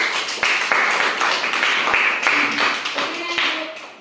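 Children in a classroom clap in a series of loud, rhythmic bursts, fairly close, as part of a counting game, with a voice briefly speaking near the end.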